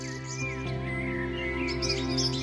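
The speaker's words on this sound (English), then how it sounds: "the pygmy nuthatch, scientifically known as Sitta pygmaea, flits between branches" A pygmy nuthatch (Sitta pygmaea) gives thin, high chirps over a dense, steady layer of music.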